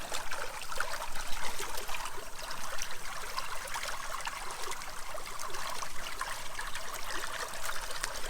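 Water trickling and streaming steadily into a pool fitted with a chlorine floater that slowly releases granulated chlorine, a continuous close splashing flow with no talk.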